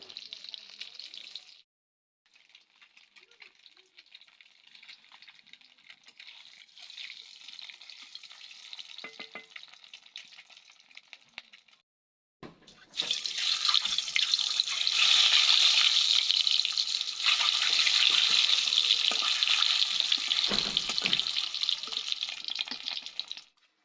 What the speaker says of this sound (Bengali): আমি ডিমগুলো একে একে ভেজে নেব।